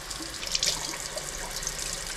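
Rinse water from basmati rice drains into a kitchen sink, a soft continuous trickle and splash heard close up for a couple of seconds.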